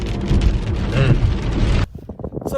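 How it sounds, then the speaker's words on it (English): Rain falling outdoors on a cool 64-degree day, a steady broadband hiss that holds loud and dense, then drops off sharply near the end to scattered softer patter. "The rain's back."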